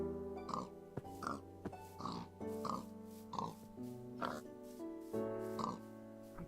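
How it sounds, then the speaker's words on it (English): Pigs oinking in Minecraft, a steady series of short grunting oinks roughly every half second to second, clear and close over a faint background of game music. "Pigs. Okay, pigs."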